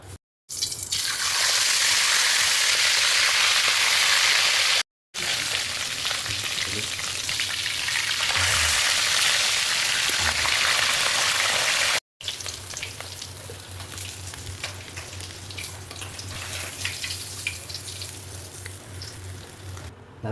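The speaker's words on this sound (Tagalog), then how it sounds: "magluto tayo ng pinaritong tilapia" Tilapia fries in hot cooking oil, a loud dense sizzle that runs continuously, broken by two brief cuts, then settles into a softer bubbling crackle.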